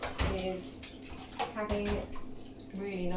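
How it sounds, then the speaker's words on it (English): Dishes washed by hand in hot water in a kitchen sink, with sloshing and splashing in bursts and faint clinks, heard beneath a person talking. "One of the secrets to washing up, you probably know this, is having really nice hot water."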